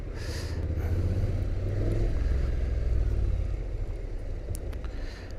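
Honda NC750X DCT motorcycle engine running steadily while riding through city traffic, a continuous low rumble with wind noise, fairly loud and unbroken throughout.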